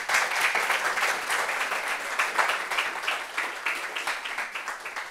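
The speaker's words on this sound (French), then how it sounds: "Est-ce qu'on peut applaudir Lorraine, s'il vous plaît?" Studio audience applauding steadily for a guest on a French talk show, a dense, continuous wash of clapping that holds for several seconds without any voices.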